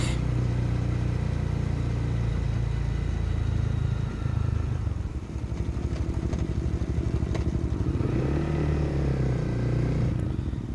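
A motorcycle on a July ride around Sauvie Island rolls slowly in second gear at about 15 mph, its engine putting out a steady low thrumming drone throughout, with some wind rush and faint clatter over it.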